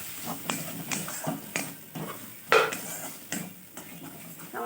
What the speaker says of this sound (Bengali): সব মশলাটি ভালোভাবে ভেজে নেব।